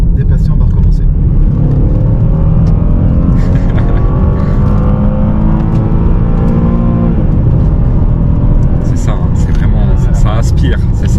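A Cadillac CTS with a naturally aspirated direct-injection 3.6 V6 accelerates hard from inside the car, its loud engine note rising steadily through the revs, with people talking over it.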